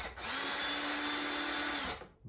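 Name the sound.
power drill removing screws from light switch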